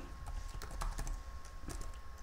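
A computer keyboard clicks as a file name is typed, with irregular quick keystrokes and a few louder taps, faint and close against a steady background hum.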